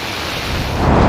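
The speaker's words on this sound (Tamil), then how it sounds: "அதிகாலை முதலே கருமேகத்துடன் கனமழை மற்றும் மிதமான மழை விட்டுவிட்டு பெய்தது" Heavy rain falling before dawn under dark clouds in Tamil Nadu: a loud, steady broadband roar that swells slightly toward the end, with no other sounds standing out.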